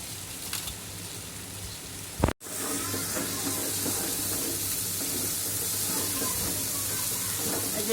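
Spice paste and tomato sizzle steadily in a pan while chicken curry is being cooked at home, a continuous broadband hiss broken by one brief loud knock near the middle, with no talking.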